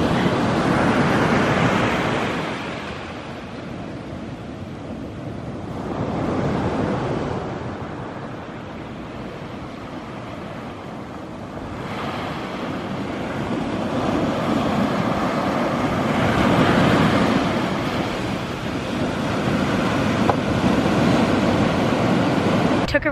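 Ocean waves roll onto a California beach in slow, broad surges with a constant roar of surf and some wind buffeting the microphone, heard close and without talk.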